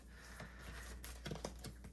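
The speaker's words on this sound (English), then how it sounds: "So I'm going to shuffle up my hand." A hand of playing cards is shuffled during a solo tabletop game, giving a quiet, close run of soft papery flicks and taps that quicken toward the end, with no talking.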